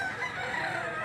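Gamecock roosters of the kanawayon and talisahin breeds crowing, a dense, sustained call filling the moment, loud and close with no talk over it.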